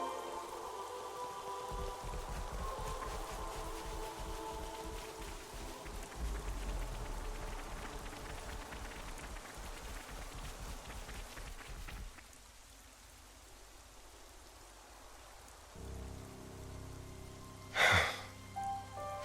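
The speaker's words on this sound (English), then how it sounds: "Rain." Rain in the video game Xenoblade Chronicles 3, a steady patter of drops falling on surfaces that thins out partway through, with a brief sharp sound near the end.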